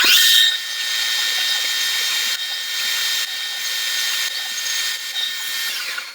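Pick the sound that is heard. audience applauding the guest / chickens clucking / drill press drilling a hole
drill press drilling a hole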